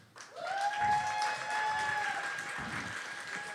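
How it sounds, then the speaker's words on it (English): An audience breaks into sustained applause for a poet being brought up at a spoken-word poetry event, building quickly and holding steady as broad crowd clapping with some sustained tones over it. "please give a huge round of applause coming all the way from the back"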